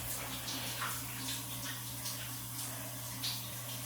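Shower water runs steadily while a puppy is washed, a constant broadband hiss of spray with faint splashes and a low steady hum beneath it.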